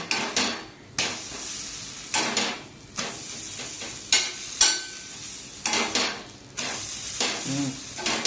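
Jackfruit poli frying on a pan, bursts of sizzle repeating roughly once a second, each with a scrape or flip of a spatula against the metal.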